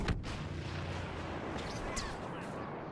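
Grenade explosion in Star Wars Battlefront, a sharp blast at the start followed by rumbling battle noise and scattered shots over a few seconds, with no voices.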